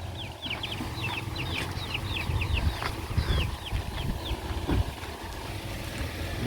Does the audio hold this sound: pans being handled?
no